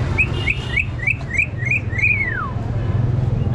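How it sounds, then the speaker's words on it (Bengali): A myna at a pigeon market gives a run of about seven quick rising whistled notes, then one longer falling whistle, close and clear over a steady low crowd murmur. "ডাকটা শুনেন মাশাআল্লাহ অনেক সুন্দর ডাকে"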